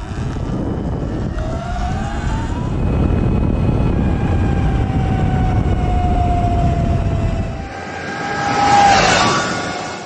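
EBMX X9000 Sur-ron electric motorbike on a 72v battery doing a top speed run: a loud rising electric motor whine under heavy wind roar, with a second surge near the end as it passes close.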